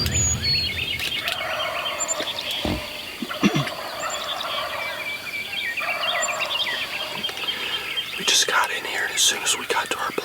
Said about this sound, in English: As soon as we got to our blinds, Rick heard turkeys, probably not 150 yards from us up on the roost.